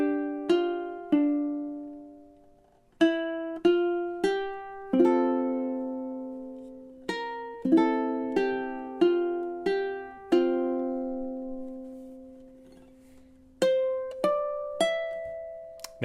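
Solo guitar fingerpicked through a short classical-style passage, clear plucked notes and small chord clusters ringing and decaying, played close and alone with brief pauses between phrases.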